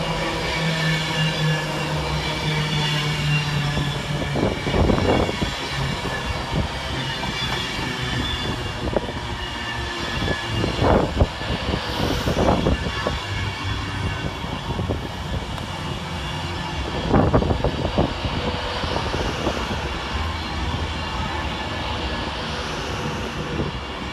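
A class 390 passenger train rumbles steadily closer into Sandwell and Dudley station, its engine drone and rail noise building, with several clanking bursts from the wheels over track joints along the way.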